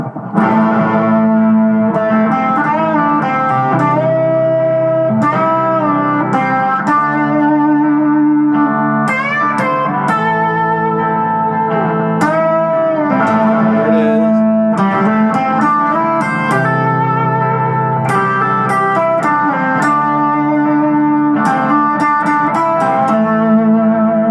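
Distorted electric guitar plays a continuous run of pentatonic riffs from a song, one flowing into the next, loud and steady throughout with effects-laden tone and no talking.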